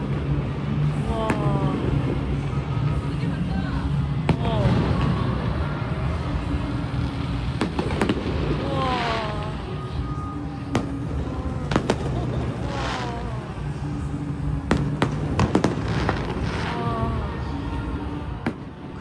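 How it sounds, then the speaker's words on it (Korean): Fireworks going off close by in the Philippines, with repeated sharp bangs and crackling bursts scattered irregularly over a steady crowd and street din, some blasts loud and near. "정말 가까운 곳에서 폭죽놀이를 해요"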